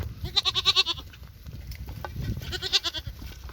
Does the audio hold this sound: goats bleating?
yes